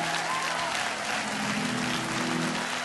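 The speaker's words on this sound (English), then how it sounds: "somebody clap your hands" Church congregation clapping along during a praise service, a steady wash of many hands that holds evenly throughout, with a low sustained tone from music or a voice underneath.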